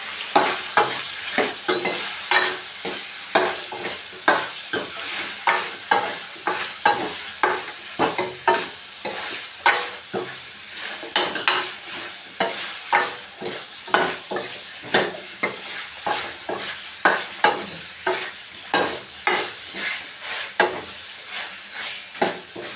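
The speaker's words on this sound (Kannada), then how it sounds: "ಈಗ ಕೊತ್ತಂಬರಿ ಕರಿಬೇವಿನ ಸೊಪ್ಪನ್ನ ಹಾಕ್ಕೋತಾ ಇದ್ದೀನಿ" Coriander and curry leaves sizzle in a frying pan while a spoon stirs and scrapes steadily, producing a rhythmic series of scraping strokes over continuous frying hiss, close and clear with no talking.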